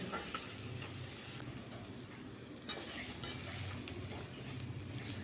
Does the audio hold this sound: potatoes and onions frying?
yes